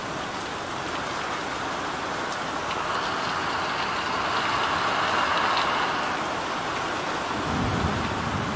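Continuous heavy rain from a South East Queensland thunderstorm pours down, with a soft low rumble of distant thunder building faintly beneath it.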